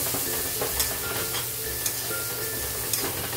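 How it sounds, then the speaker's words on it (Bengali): Spices such as ground coriander and cumin sizzle steadily in a hot pan with bitter gourd, with occasional scraping stir strokes over a continuous hiss. "এইবার ভালো করে নাড়াচাড়া করব।"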